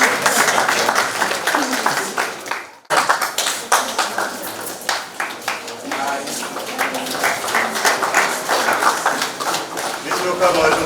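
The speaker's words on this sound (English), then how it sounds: "Let's clap." An audience claps at a formal function to welcome top management, with rapid, uneven hand claps near and loud that continue for about ten seconds after a brief pause. Voices talk over the clapping.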